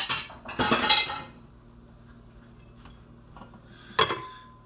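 Metal pots, pans and lids clatter and clink in a kitchen as someone rummages for a pan lid, with a loud burst at the start, a quiet stretch, then one more sharp clank near the end.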